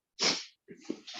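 A single sharp human sneeze in a quiet room, followed by a short snort and breathy exhale.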